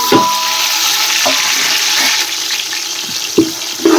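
Sliced onion, slit green chilies and tomato sizzle steadily in hot oil for a homemade biryani, with a spoon scraping and stirring the pan in several short clinks.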